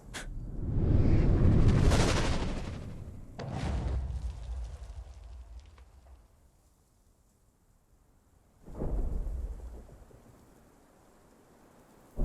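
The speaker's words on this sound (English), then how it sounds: "Sounded like I made an explosion and then it gave me the war horn" Explosion followed by a war horn in Conan Exiles: Age of War, a big booming blast with a long rumbling tail, a second lower boom, then a quieter swell, with no talking.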